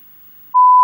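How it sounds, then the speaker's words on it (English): A telephone sounds in a room as a single steady electronic tone that starts abruptly partway through and holds loud and clear, with no talking. "there goes the phone"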